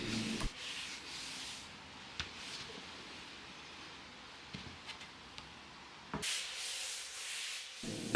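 Quick sanding of a wooden dining table base, a steady close rasping rub that pauses briefly and surges louder near the end, no voices.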